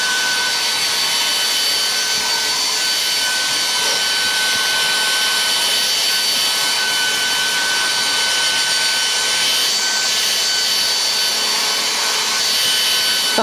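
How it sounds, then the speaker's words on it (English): A Philips Active Cool HP3462 hairdryer running on its high heat setting, a steady loud airy whoosh with a faint high whine, continuous and unchanging throughout with no talking. "Now that's the setting I'll always dry my hair on."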